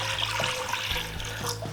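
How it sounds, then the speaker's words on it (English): Tap water runs into a big cooking pot, a steady splashing trickle with a low resonant hum beneath, close by and alone. "So water into a big pot,"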